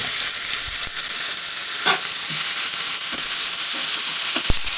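Washed, chopped broad beans (amarakkai) fry with curry leaves in hot oil, giving a loud, dense, continuous sizzle with occasional light stirring taps.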